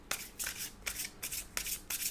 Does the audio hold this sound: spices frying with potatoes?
no